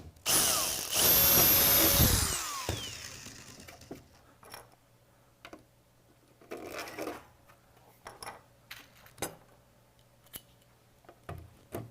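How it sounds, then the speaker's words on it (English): A power drill bores into a robot chassis in one loud, whining burst of about two seconds, followed by quieter clicks and handling noises close by. "so I'm going to drill in the 5th hole up from the bottom"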